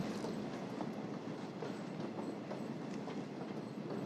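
A train runs along the rails in a scene from the 1977 film L'épreuve de force, set in the southern United States: a steady, fairly faint rumble with a soft clickety-clack rhythm throughout and no voices.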